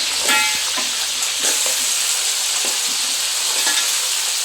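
Leftover masala and pieces going into a crab curry in a wide pot, sizzling loudly and steadily with the scrape and clatter of stirring throughout.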